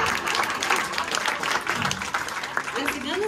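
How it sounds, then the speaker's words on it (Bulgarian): An audience applauding at a school Christmas show, dense sustained clapping from a crowd with a voice speaking over it through the amplified hall. "Аплодисменти за нашите адреналинки"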